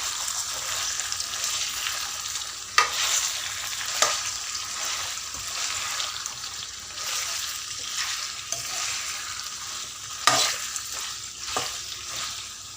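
Ivy gourd masala curry simmering in a covered pan on low heat, a steady soft sizzle running throughout with occasional clicks and scrapes as it is stirred now and then.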